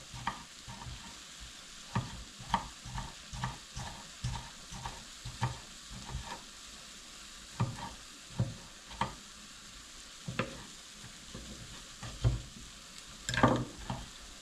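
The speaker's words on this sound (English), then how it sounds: "Now we got the minced beef cooking." Minced beef frying in a pan, a constant sizzle broken by repeated scraping and stirring knocks at an uneven rhythm, close up without speech.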